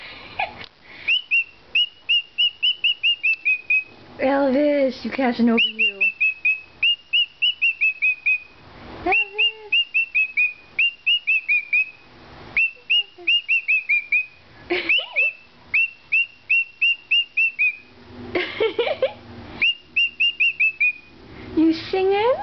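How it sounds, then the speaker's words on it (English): A pet bird whistles repeated bright, rising phrases in bursts, close and loud, broken by squawks while a person talks to it between the calls. "You whistling away?"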